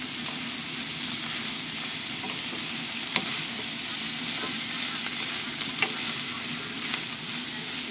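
Bitter gourd (ampalaya) sizzles steadily as it sautés in a pan, a continuous close crackling hiss with a few faint scrapes of stirring and no talking.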